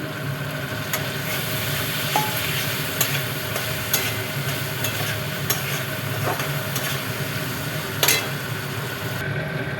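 Mutton fat sizzling in a pan for Rajshahi-style aloo dum, a constant hiss of frying with a spatula scraping and stirring, plus a few sharp metallic taps against the pan.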